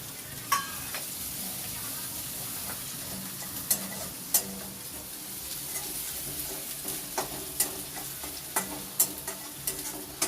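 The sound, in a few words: sautéing ginger and chopped garlic in oil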